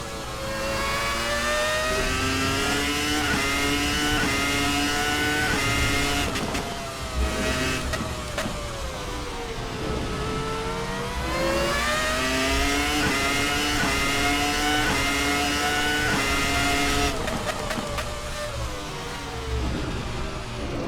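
A race car engine at Imola revs hard on the throttle, its pitch sweeping up and down through repeated climbs and drops, loud and close with a steady mechanical whine and no voices.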